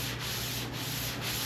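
A 1946 Ford hood's sheet metal is sanded by hand with 400 grit sandpaper: close, dry, continuous rasping in steady back-and-forth strokes about every half second, with no talk.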